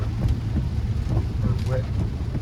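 Rain falling on a street in downtown Miami, a steady dense hiss of downpour with low rumbling traffic underneath, constant and close throughout, with faint voices mixed in.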